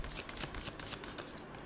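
Tarot cards shuffled by hand in quick riffling bursts, crisp papery flutters repeating several times close to the mic, with no voice during the shuffle.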